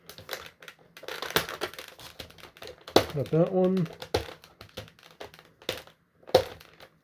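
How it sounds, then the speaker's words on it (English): Scissors snip twist ties off a WWE Ultimates Bret Hart action figure package. Close, sharp clicks mix with crinkling plastic, and someone speaks briefly. "He's got twist ties, but twist ties be damned. I have scissors."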